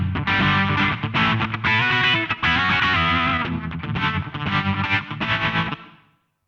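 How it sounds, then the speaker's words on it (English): Reverb soloed on an SSL Module 8 plugin, leaving a washy, distorted lo-fi wet signal of a sustained musical phrase that fades out at the end. "then I get just the reverb"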